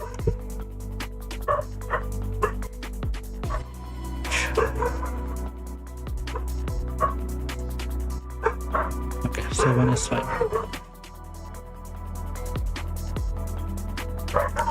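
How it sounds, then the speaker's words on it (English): Several dogs bark, yip and whimper on and off in the background, some sharp bursts rising above a steady hum, while a person talks nearby indoors. "a lot of dogs are barking right now"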